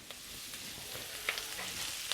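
Chopped chili padi frying in a pan, a steady close sizzle with a few light crackles and faint stirring, no voices.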